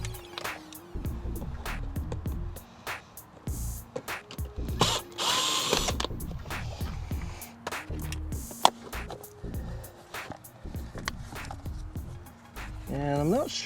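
Power drill on a Torx bolt holding the dead pedal of a Mk4 Jetta, whirring in short repeated bursts of varying length, close and loud, with workshop clatter and occasional talk between.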